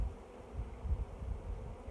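Honeybees hum around an opened hive, a faint low buzzing with soft irregular swells, heard close and alone for a couple of seconds.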